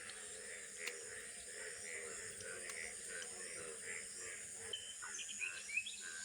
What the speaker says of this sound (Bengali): কিভাবে ব্যাঙ ডাকতেছে সারা রাত ভরে